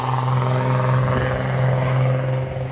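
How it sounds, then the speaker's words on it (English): A truck engine rumbles steadily nearby with a deep, throaty drone from loud exhaust pipes, holding loud throughout with no voices. "that guy's got nice big loud pipes on his truck"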